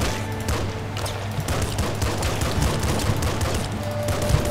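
Rapid, dense gunfire from a revolver and machine gun in the game Nuclear Throne, a steady loud stream of overlapping shots with small bursts and booms throughout.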